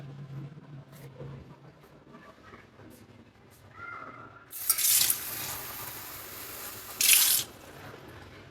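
Water pours in two short bursts, a longer splash followed a couple of seconds later by a briefer one, both fairly close against a quiet room with faint background noise.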